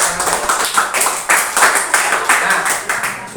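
Classroom children clap together in a steady rhythmic pattern, close and loud, with roughly two claps per second and some voices mixed in.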